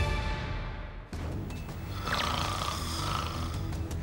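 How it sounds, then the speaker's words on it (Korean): A person snores in a low, continuous, rasping rumble that stays fairly loud and steady, with no speech over it. "첫 번째는 바로 코골이입니다."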